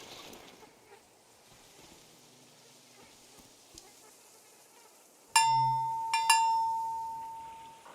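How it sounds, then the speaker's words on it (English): A bell is struck sharply after a quiet stretch and rings loud and clear, then is hit again twice in quick succession, each tone sustaining and slowly fading. "The sound of this bell has a lot of character."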